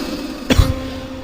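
A voice imitates a sudden cough, one sharp, fairly loud burst just past the midpoint that fades quickly into quiet room tone.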